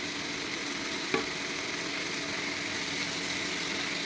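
Mushroom curry with turmeric being stirred in a hot pan, a steady sizzling hiss carrying on evenly with one sharp scrape or clink of the spoon against the pan partway through.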